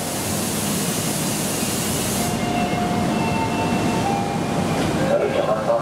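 A KRL commuter train passes close by, a loud continuous rumble and hiss of wheels on rails with a brighter high-end roar that drops away partway through.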